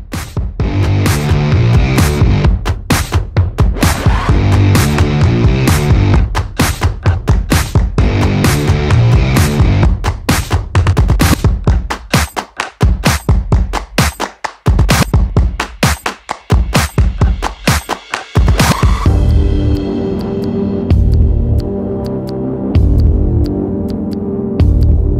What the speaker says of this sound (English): Now we're going to sew.